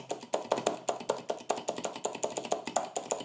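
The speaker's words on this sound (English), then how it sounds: "These are the macro customization buttons. They sound like this." Button presses on the macro keys of an 8BitDo mechanical keyboard, M Edition: a steady run of about twenty crisp clicks at a quick, fairly even pace, close and moderately loud with no talking.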